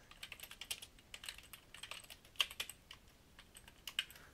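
Quick, light clicks of someone typing on a computer keyboard while writing code in Dreamweaver CS6, played in short irregular bursts that sit close and fairly soft with no speech.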